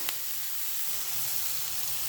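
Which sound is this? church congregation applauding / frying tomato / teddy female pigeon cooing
frying tomato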